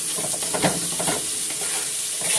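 Chicken liver sautés with onions and green peppers in a pan, a dense close sizzle with a few soft stirring scrapes over the steady hiss.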